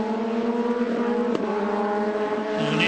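Star Mazda race cars running nose to tail in a train at Portland International Raceway, a steady, loud, close engine drone with harmonic whine that holds level throughout, a brief sharp spike partway through as a car passes.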